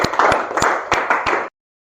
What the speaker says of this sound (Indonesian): Tepuk tangan dulu untuk kelompok 3 karena sudah berusaha mereka.